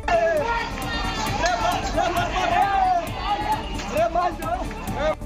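An agitated crowd shouts and clamours during a brawl at a night-time DJ dance gathering, a dense, loud babble of many voices with sharper yells rising above it and no pause.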